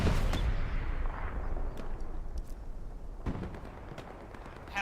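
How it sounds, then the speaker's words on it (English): Gunfire and distant artillery booms in a Hell Let Loose-style online war game battle, a dense continuous rumble with scattered sharp shots and impacts throughout. "I'm shooting them."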